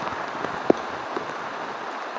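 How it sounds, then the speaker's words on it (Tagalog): Rain falls steadily on a rural farm area, a constant close hiss of drops striking surfaces, punctuated by a couple of sharper single drips. "Ulan na."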